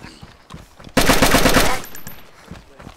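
A close burst of rapid automatic gunfire in the survival game DayZ, about a dozen sharp shots fired in under a second amid quieter sporadic noise before and after.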